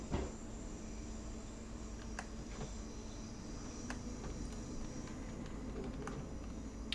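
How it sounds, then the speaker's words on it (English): In the Train Sim World 2 game on the Cathcart Circle commuter line, a rumbling train cab carries a steady low drone and faint hum while another train passes the other way, with scattered light clicks and rattles. "Another train coming the other way."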